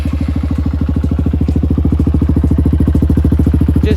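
Honda CRF150F motorcycle with a brand new chain and a mismatched carburetor, its engine idling loud and close in a steady, fast, even thumping rhythm.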